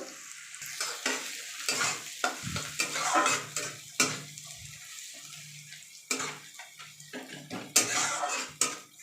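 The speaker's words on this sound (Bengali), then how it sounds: "পেঁয়াজগুলো লাল লাল করে ভাজা চলছে" Onions frying in a pan until reddish, stirred with a utensil that scrapes and clatters in irregular bursts over a steady close sizzle, with no talking.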